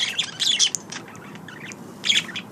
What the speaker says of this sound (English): He's a very beautiful bird.